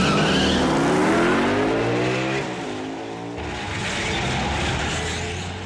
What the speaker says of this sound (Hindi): कार में बैठो क्रिस